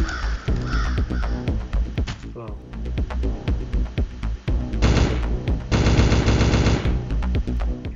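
Rapid gunfire from a weapon blasting zombies in the mobile game Dead Ahead, a dense run of sharp repeated shots with heavier bursts, loud and continuous over game music.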